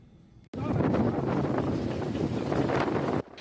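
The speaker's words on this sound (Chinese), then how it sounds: "一阵一阵的强风破坏力是真惊人" Strong wind roars in heavy, continuous gusts that buffet the microphone, loud and unbroken for several seconds before cutting off.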